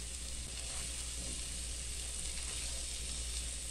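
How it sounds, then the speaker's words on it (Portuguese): Onion and garlic with a spoonful of sugar sautéing in a pan for a creamy chicken lasagna, an even, continuous sizzle holding steady throughout without any voices. "Daí eu vou dar uma refogadinha nessa cebola e nesse alho."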